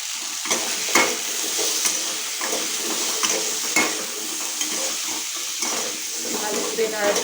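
Unripe mango curry with salt and turmeric is stirred in a pan. A steady close sizzle runs beneath repeated scraping stir strokes, and a voice talks over it.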